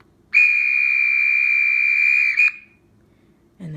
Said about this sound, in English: Function 4 is guard's whistle.